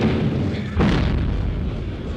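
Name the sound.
gunfire salvos from antique Gras rifles at ceremony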